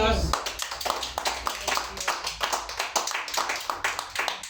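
A church congregation claps rhythmically during a sermon on spiritual warfare, a steady pulse of hand claps at a brisk, even tempo lasting throughout, with voices mixed in underneath.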